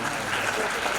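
Dense, steady applause from a large crowd at a Dhakad community talent award ceremony, loud and continuous with a voice speaking over it.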